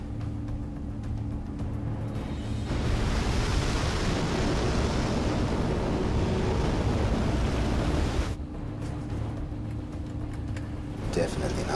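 A large ocean wave surging in a film, a broad roaring swell that builds suddenly, holds loud and close for several seconds, then cuts back to a lower rumbling background.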